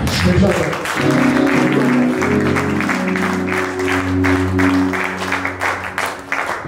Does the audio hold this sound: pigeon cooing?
no